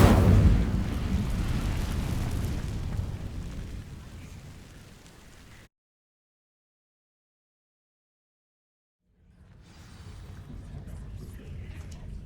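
In Hogwarts Legacy, an Incendio fire spell ignites dry vines with a loud roaring whoosh that fades away into total silence, then a softer crackling rumble returns.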